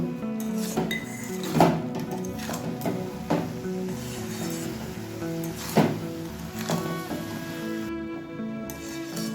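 Fried cumin and dried chilli powder being mixed into a pitha filling in a metal pan, with repeated close clinks and scrapes of a spoon against the vessel in an uneven stirring rhythm.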